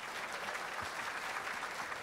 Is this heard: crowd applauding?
yes